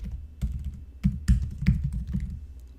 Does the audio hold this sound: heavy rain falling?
no